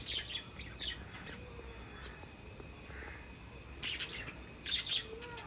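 Pet birds chirp and tweet in short scattered bursts, fairly faint against a steady background hiss, with a louder cluster of calls near the end.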